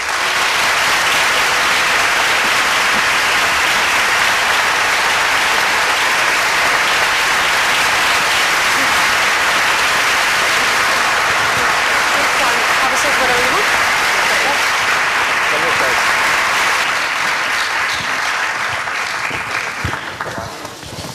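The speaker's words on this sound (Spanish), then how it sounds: "Con un fuerte aplauso a Yo-Yo Ma y Carlos Prieto." Dense, sustained applause from a large audience fills a theater at a master class with cellist Yo-Yo Ma and Carlos Prieto, holding steady before tapering slightly at the end.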